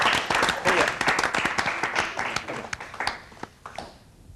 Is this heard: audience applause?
yes